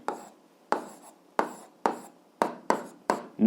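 A pen writes out an algebra equation on paper in a series of short scratchy strokes, about eight crisp bursts in a fairly even rhythm, close and alone.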